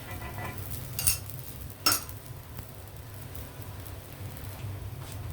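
A spatula scrapes and taps on a hot pan while flipping a sponge dosa, with two sharp metallic clinks standing out over a faint background sizzle.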